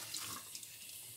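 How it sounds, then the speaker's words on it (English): Tap water runs into a sink while a glass filter pitcher is washed, a steady soft splashing stream heard close and alone with no talk. "So I'm just going to wash this now."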